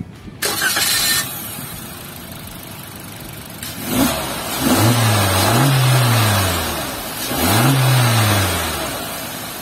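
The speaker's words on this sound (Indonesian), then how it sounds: "Yuk kita start up dulu." Suzuki Jimny 5-door engine cranks and catches, then settles before two rising revs that swell and fall back to idle, close and loud.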